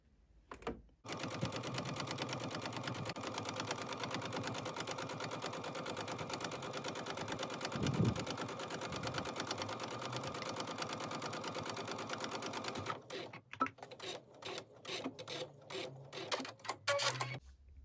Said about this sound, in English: now we're going to top stitch the opposite side of the long sashing